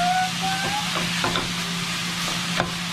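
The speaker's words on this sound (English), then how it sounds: "We're just going to break up our ground beef," Ground beef breaking up and being stirred in a hot pan, a steady close sizzle with scraping spoon strokes and soft clacks against the pan.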